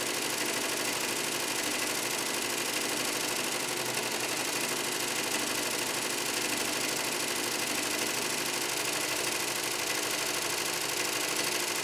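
An SWF embroidery machine stitches a fill area, giving a constant, even mechanical chatter and hum that runs without a break, fairly quiet and with no voices.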